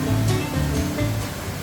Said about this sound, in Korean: 수량이 많은 폭포수가 시원하고 장쾌한 소리를 내며 계곡 아래로 쏟아집니다.